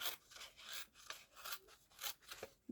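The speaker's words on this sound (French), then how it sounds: "on va venir déchirer à la main" A small strip being torn by hand, a series of close, rough ripping bursts in uneven pulses, quiet and with no voices.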